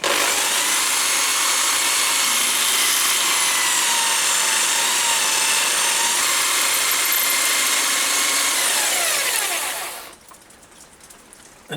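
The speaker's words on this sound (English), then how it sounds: "Then I drill through with a small drill first." A drill bores through a split clamp on a lathe with a loud, steady grinding whine that drifts in pitch for about ten seconds, then drops away to quiet.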